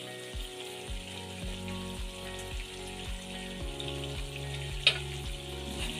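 Curry leaves drop into a pan of reduced chicken fry and sizzle steadily, with light stirring and one sharp crackle partway through.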